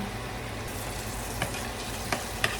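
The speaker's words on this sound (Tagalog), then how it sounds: "Kailangan medyo i-brown natin yung ating garlic para mas lumabas ang sarap ng ating niluluto" Garlic browning in a frying pan, an even close sizzle with three light scraping taps from stirring, no talking.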